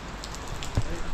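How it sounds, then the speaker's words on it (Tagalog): Heavy rain pours down steadily on a farm in a continuous wash of noise, with a faint voice briefly audible beneath it. "hanggang ngayon muulan pa rin"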